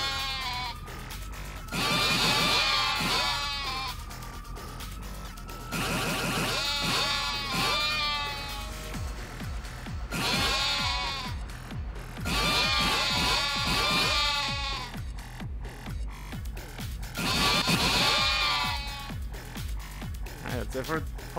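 Sheep bleat in a Yakuza Like A Dragon minigame, with four drawn-out, wavering calls arriving at regular intervals over a rhythmic backing beat, and someone talking between them.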